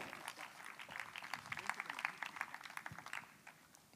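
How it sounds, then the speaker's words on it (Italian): Audience applause for the president of Virtus Basket, a steady patter of clapping from a crowded room at moderate level, with talk and voices mixed in underneath. "gli tributiamo un grande applauso"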